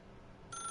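Telephone ringing in The Stanley Parable video game: a bright electronic ring starts abruptly partway through and holds steady over quiet background hiss.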